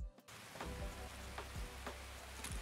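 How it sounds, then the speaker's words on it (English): Rain falls in a survival shooter video game, a steady hiss of drops on surfaces with a low rumble underneath, filling the whole stretch evenly at a moderate level. "Of course, it's raining."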